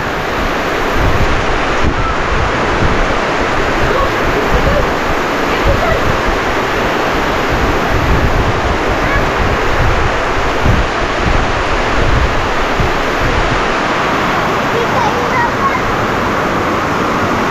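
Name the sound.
heavy rain with strong wind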